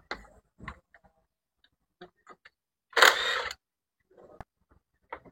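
Bolts come out of a motorcycle engine cover during an oil-change check. Scattered small metallic clicks and taps sound close by in a quiet space, with one louder rattling scrape lasting about half a second midway.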